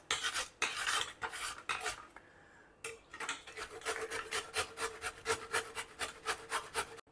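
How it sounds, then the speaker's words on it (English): Peeled raw mango is pushed across the large holes of a grater in quick, even rasping strokes, near and steady, after a short pause with a faint clatter. "Now we'll grate it. Use the larger size grater for it."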